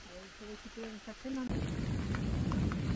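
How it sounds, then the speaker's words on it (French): Heavy thunderstorm rain shower on a countryside hike in the Lot, near Floirac and Miers. A voice talks briefly, then a loud, dense, steady roar of pouring rain takes over and fills the rest. "Vous avez dit averse orageuse. C'est plus qu'averse."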